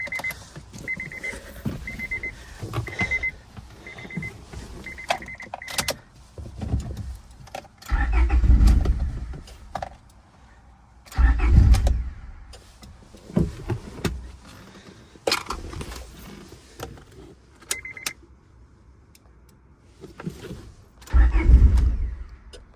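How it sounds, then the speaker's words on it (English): A 25-year-old Honda car with its immobilizer reconnected is cranked, with beeping chimes, then several loud low starter bursts cranking the engine in separate attempts, close up. "we're gonna see if she starts"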